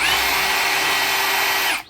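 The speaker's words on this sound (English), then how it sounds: "So we will be using the hammer drilling mode" A DeWalt hammer drill runs in hammer drilling mode during an inline booster pump installation, giving a loud, steady, high-pitched whirring buzz close by that holds for nearly two seconds before cutting off abruptly.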